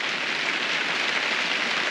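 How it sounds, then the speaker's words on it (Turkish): Steady outdoor rain falling as a dense, even hiss without breaks, heard alone at a garden where fruit saplings are being planted. "Hava Yağmur bindi biraz."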